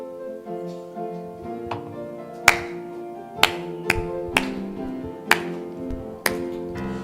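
Congregation at a Methodist church Sunday service clapping along to hymn 580 during the offering, sharp claps landing at a steady beat over sustained organ or keyboard chords.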